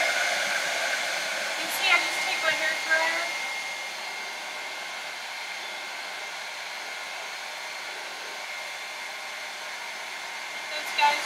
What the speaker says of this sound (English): I am going to have you guys listen to the hairdryer real quick for a hot second